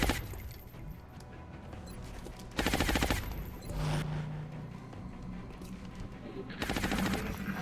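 Squad machine-gun suppressing fire in the XCOM Long War video game: loud bursts of rapid automatic shots come in several separate volleys, with game effects between them.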